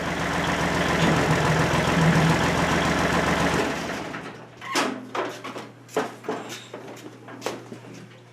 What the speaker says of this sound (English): I need to drive the tractor forward.